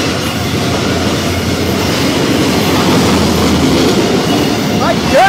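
CSX freight train 482 speeds through Altamont, Illinois in a loud, continuous rumble of rolling cars and rail clatter, with a brief wheel squeal near the end.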